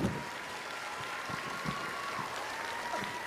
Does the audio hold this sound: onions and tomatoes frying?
no